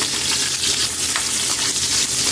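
Onions sautéing in a hot pan as a dense, continuous sizzle with crackling, loud and close, and no talking.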